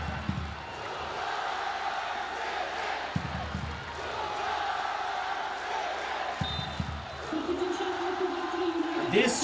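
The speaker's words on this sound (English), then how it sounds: "This cheer could be heard all the way down the alleyways" Football fans at a match send up a broad, distant roar of cheering and crowd noise, steady and reverberant, with occasional louder whoops and thumps breaking through.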